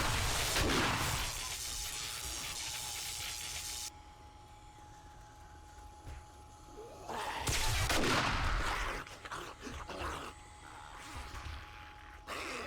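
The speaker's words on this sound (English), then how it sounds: "And hit them with the shotgun." Shotgun blasts in the survival game 7 Days to Die, several loud broadband bursts spaced apart with quieter game ambience between them.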